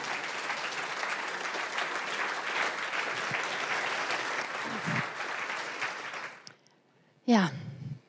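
An audience at a 5G congress applauds to welcome a speaker: steady, dense clapping fills the room for about six seconds, then fades to near silence before a brief voice speaks at the end.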